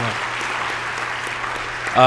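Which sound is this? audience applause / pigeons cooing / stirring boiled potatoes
audience applause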